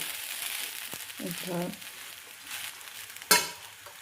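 Khichdi being sautéed in a pan sizzles softly with a few stirring scrapes, fairly quiet throughout, with a sharp clatter near the end and faint background voices.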